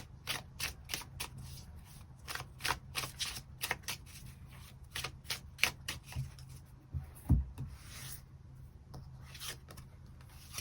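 Tarot cards being shuffled and drawn by hand, heard up close as a steady series of quick papery riffles and slaps, with no talking.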